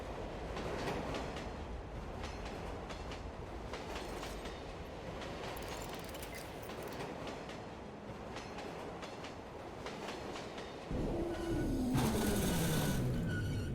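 A train in the Watch Dogs Bad Blood video game rolls steadily with rhythmic clickety-clack, then its sound shifts near the end with a rising squeal and roar as it drives into a tunnel.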